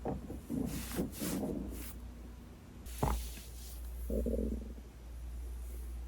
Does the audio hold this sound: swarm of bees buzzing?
no